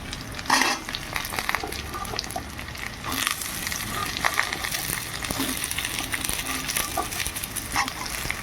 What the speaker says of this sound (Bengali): এবার একটু পেঁয়াজটা ভেজে নেব